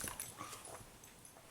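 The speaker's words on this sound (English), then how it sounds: "This dog is in a very playful mood right now." A playful dog gives soft, faint whimpers and a few high yips at close range in a quiet room.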